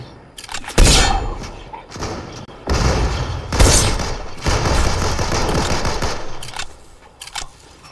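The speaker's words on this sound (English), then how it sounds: "Why is he shooting at us?" Video game gunfire rattles in dense, loud automatic bursts with heavy thuds and booms, sustained for several seconds as a chaotic firefight.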